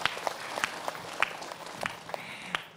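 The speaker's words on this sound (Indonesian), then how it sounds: "Tepuk tangan dulu." Sparse, scattered handclaps from a small audience at an Islamic talk show, a few distinct claps spaced irregularly over a quiet room background.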